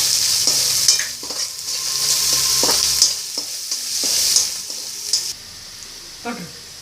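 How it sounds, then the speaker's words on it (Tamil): Onions sauté in a pan for dal panchali with a pinch of salt, a soft continuous sizzle broken by repeated scraping stirs of a spoon, close and moderately loud. "ஆக்சுவலாக வெங்காயம் வதங்கிருச்சு, துளி உப்பு போட்டுண்டா சீக்கிரமா வதங்கிடும் வெங்காயம்."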